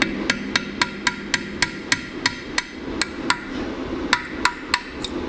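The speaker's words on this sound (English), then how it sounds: "going around to each one of these arms of this basket with a flathead and a hammer." Repeated sharp metallic hammer taps on a flathead screwdriver prying parts from a blown 15-inch subwoofer's basket, about three per second in an uneven rhythm, ringing close over a low background hum.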